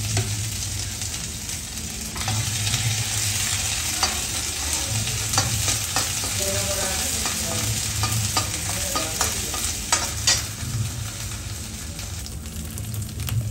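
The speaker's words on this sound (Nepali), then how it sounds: "अघि रेडी पारेको ज्वानो र मरौठीलाई पनि अब तेलमा फ्राई गर्न गइरहेकी छु।" Ajwain seeds and marauthi frying in hot oil over a low flame, a steady close sizzle with light stirring clicks and scrapes throughout, no voices.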